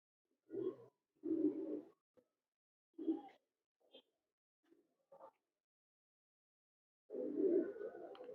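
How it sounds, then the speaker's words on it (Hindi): Pair of pigeons from Dubai cooing close by in a few soft, low, throaty bursts separated by quiet gaps, with a longer coo at the end. "पुराना ये दो कबूतर हमारे पुराने दुबई वाले"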